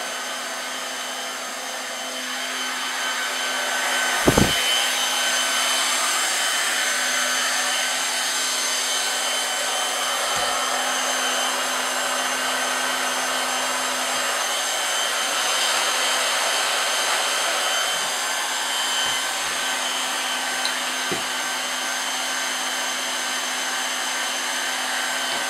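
Hot air welder for HDPE fabric repair heating up, a steady loud blowing hiss with a constant whine that holds throughout, with a couple of faint knocks.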